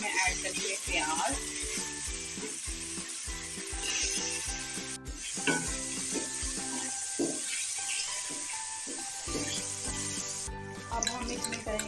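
Onions tipped into a pan of browning chicken set off a steady, close sizzle with scraping and stirring noises on top, holding level throughout with no voices.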